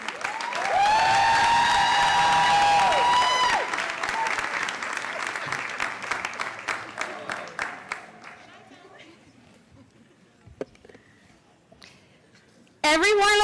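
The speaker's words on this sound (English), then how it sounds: "let's give them another round of applause" A crowd breaks into loud applause as a bright musical tone fades, then the clapping gradually thins to scattered claps before another loud burst.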